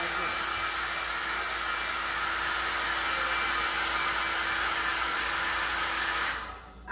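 A hair dryer blows steadily at close range, drying a washed patina paint finish on a wooden remote-control holder, a constant loud whoosh that cuts off at the end.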